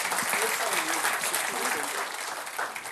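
Audience applause at a live event on financial planning, a steady wash of clapping that fills the whole span at moderate loudness, with no voices over it.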